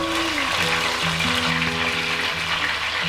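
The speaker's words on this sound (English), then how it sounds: "First fry a few curry leaves." A few curry leaves fry in ghee in a cooking pot with a steady, close sizzling hiss, while soft tonal background music runs underneath.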